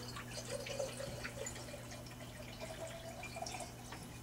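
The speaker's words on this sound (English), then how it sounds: "We take a bucket of glaze and we slowly pour it in." Pottery glaze is poured slowly from a bucket into a pot, a faint continuous liquid trickle with soft drips over a steady low hum.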